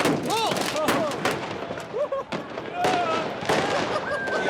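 Fireworks set off by children bang and crackle across a crowded square, with sharp close blasts and whistling rockets over a noisy throng of voices and shouting.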